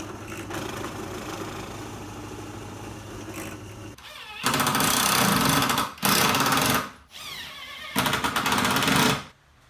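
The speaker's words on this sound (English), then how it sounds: "I countersunk them a little deeper with an 8mm drill bit" A power drill with an 8mm bit countersinks screw holes in wooden Adirondack chair parts, whining in three loud bursts of a second or more each, separated by short pauses, after a quieter stretch.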